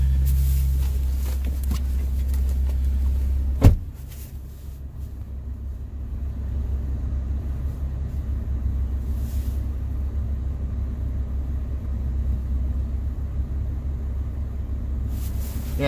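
Toyota Tacoma pickup with a Magnaflow muffler and no tailpipe idling around 1200 RPM, heard from inside the cab: a steady low rumble that holds alone throughout, broken once by a brief thump near the start.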